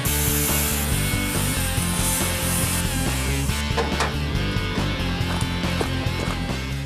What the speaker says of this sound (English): They're now cutting up a printing press for its shafts to use as axles